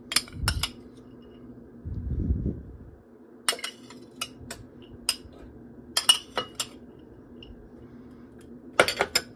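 Rice going into several casserole dishes in a home kitchen, heard as a series of sharp clinks of a utensil against the dishes, with a couple of short bursts of scooping and rustling between them.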